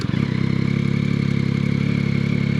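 A warm Yamaha Tracer 9 GT three-cylinder motorcycle engine idles close and loud, with an even, throbbing pulse throughout.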